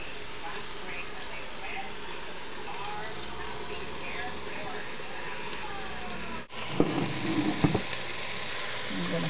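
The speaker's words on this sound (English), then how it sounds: "Add in the split peas to the pot." Split peas cooking in a pot for Guyanese cookup rice, a steady close sizzle and bubbling hiss running throughout, with a brief clatter and stirring noises near the end.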